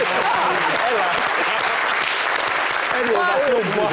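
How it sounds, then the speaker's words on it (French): An audience on a talk-show stage gives a loud, sustained ovation. The clapping is dense and steady throughout, with some voices mixed into the crowd noise. "Ovation pour moi, s'il vous plaît."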